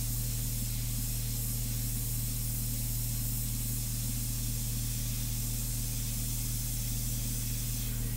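Airbrush spraying India ink for a portrait gives a steady, loud, continuous airy hiss that holds unbroken throughout, with a low constant hum of the compressor underneath and no talking.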